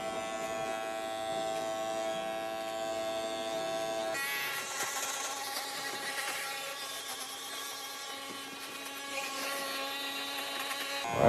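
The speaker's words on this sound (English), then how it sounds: "We're going with our cordless T outliners." Cordless T-outliner hair trimmer edging a lineup on a fade haircut, a steady close buzz that runs continuously and grows brighter and harsher midway through as the blade works the hairline, with no talking.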